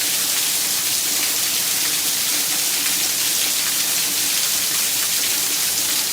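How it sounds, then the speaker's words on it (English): Torrential rain pours down steadily in Houston, a dense, loud, unbroken hiss of downpour with no letup. "there was a torrential rain that poured down"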